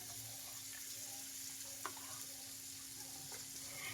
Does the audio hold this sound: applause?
no